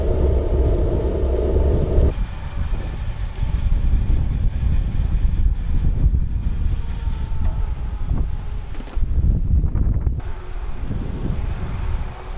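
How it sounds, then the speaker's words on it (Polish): Strong wind roars and buffets steadily while cycling fast on a forest road, about 45 km/h, a dense close rumble with brief lulls and gusts, no voices. "Ale wieje, 45 km na godzinę"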